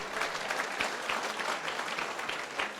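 An audience of students claps at a live training session held in a wedding hall, producing a dense, fairly loud burst of rapid overlapping handclaps that holds steady for a few seconds.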